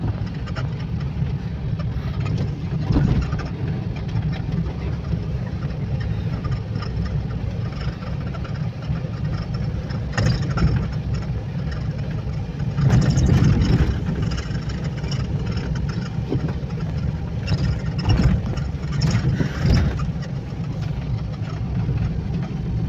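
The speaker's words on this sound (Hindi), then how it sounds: "बाइक घुस रही है गाइस।" A motorbike engine runs steadily at close range in a staff hostel compound in Urja Nagar, Mahagama, a low idling rumble with a few brief surges and no speech.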